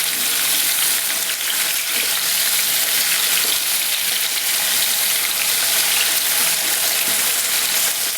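Cucumber pieces frying in oil in a pan for chutney, giving off a steady, dense, loud sizzle that holds without a break, close by and with no talk.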